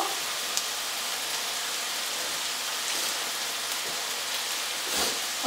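Minced meat frying in a pan for a Turkish potato bake, a steady bright sizzle and crackle hissing evenly throughout at moderate volume, with no talking.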